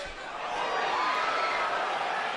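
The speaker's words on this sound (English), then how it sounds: "Crowd oohs and ahs as again Canelo lands the left." Boxing arena crowd at a Canelo vs. Amir Khan fight swelling into a broad, sustained ooh and ahh after a landed punch, a dense roar of many voices filling the space.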